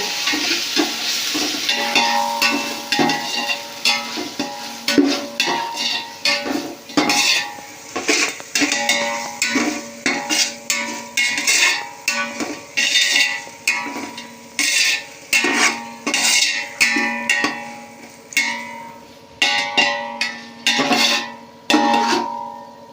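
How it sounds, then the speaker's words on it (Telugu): Ginger-garlic paste frying in a pan for mushroom biryani, with a soft sizzle beneath repeated sharp scrapes and clinks of a spoon stirring against the metal, coming in an irregular rhythm close by. "ఇప్పుడు మనం అల్లం చిన్నులపాయ పేస్ట్ వేసుకోవాలి. దీన్ని బాగా వేయించుకోవాలి."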